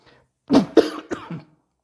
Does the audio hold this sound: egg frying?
no